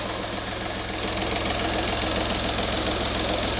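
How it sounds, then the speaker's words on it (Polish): A VAG diesel engine idles with a steady, close, rapid knocking clatter over a dense mechanical drone, running evenly and without pause. "Powiem Wam szczerze, że jestem zaskoczony pracą silnika."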